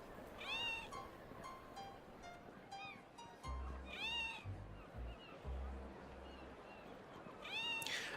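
Repeated cat meows play as a looping in-game ambient sound in an MMO area, several drawn-out calls in a row with low rumbling game ambience underneath and no talk over them.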